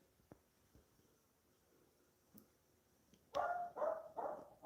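Several dogs bark from a distance on a quiet day, a few faint early yips giving way to a loud cluster of four or five barks near the end.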